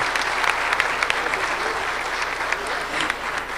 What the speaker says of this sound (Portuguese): Pode aplaudir o Senhor, né?